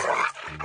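A large dog gives a short, close growl followed by a brief yip, a single quick outburst from a Telugu film scene.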